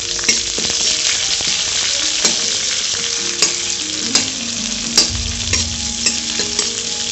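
Onions sizzle loudly in a hot pan while making besan kadhi, with a spoon scraping and stirring in irregular knocks.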